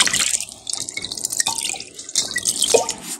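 A cucumber is rubbed and rinsed under a running tap, with a close, steady splash of water and small irregular drips and rubbing sounds.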